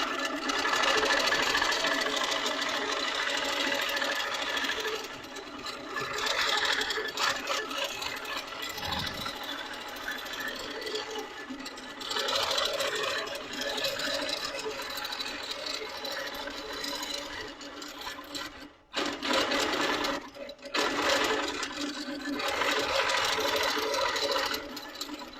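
A Pro-Stitcher Lite computerized quilting machine stitching an edge-to-edge quilt design runs with a steady, fast mechanical whir that shifts in speed, with brief pauses, close and continuous throughout.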